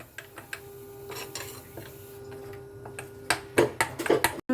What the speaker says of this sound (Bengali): এখানে যে পেস্টটা করেছিলাম সেটা এখানে মিশিয়ে দিলাম, পুরো পেস্টটা। এবার মিক্সড করে নিলাম।